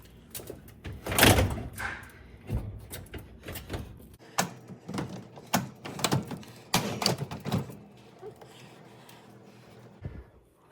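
Door of a Viking wall oven being handled and opened, with a scraping sweep followed by a series of sharp metallic clunks and taps, close up, no talking.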